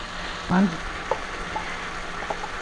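Beef karahi meat fries in a pan with a continuous sizzle, punctuated by a brief scrape of a spoon and a few light clinks against the pan.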